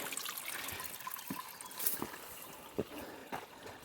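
A small cascading waterfall trickles into little pools at a desert oasis in Anza-Borrego. The splashing and dribbling is soft and continuous, with a few sharper drips and splashes close by.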